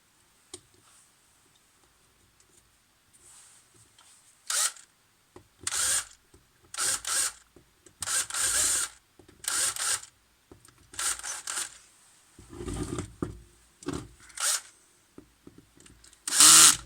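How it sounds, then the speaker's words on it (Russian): Screws being driven into an Ozon 2107 carburetor during a repair, heard as a run of short, close clicking and ratcheting tool bursts separated by brief pauses, with a louder burst at the end. "Предварительно винты наживляем."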